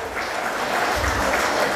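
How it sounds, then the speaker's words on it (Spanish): Brief burst of wedding guests clapping for the maid of honor at a reception, a fairly loud, even patter of many hands lasting under two seconds. "Fuerte los aplausos para la dama de honor, Miley Andrea Ortega Barrera"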